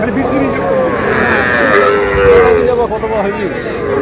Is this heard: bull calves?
yes